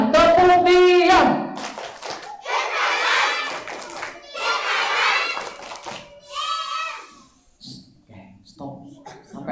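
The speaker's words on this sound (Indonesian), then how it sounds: "Diam dulu semuanya, tepuk diam." Children in a school hall perform a rhythmic clapping routine meant to bring the group to silence, with bursts of clapping and thumps mixed with loud children's voices and adult speech throughout.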